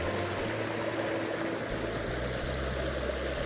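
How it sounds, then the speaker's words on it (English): A waterfall at Porcupine Gorge pours in a steady, dense rush of falling water, close by and continuous throughout, with no voices over it. "I made it to the waterfall."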